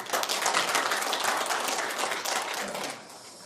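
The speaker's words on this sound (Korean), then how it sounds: "이럴 때 박수 한번 주시죠" A burst of audience clapping at a Rotary district leadership training lecture rings out for about three seconds, dense and moderately loud, before fading quickly.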